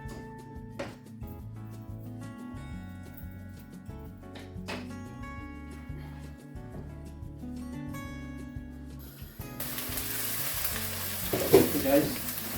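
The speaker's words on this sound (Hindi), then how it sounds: "थोड़ी थोड़ी देर बाद आप इसके अंदर चम्मच चलाते जाएं प्लीज़" Aubergine and potato curry sizzles and fries in a pan as a spoon stirs it, with a steady crackle that grows louder and busier toward the end, no talking.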